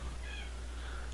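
A cat meows indoors, a short faint call rising out of a steady low hum, with no talk during the sound.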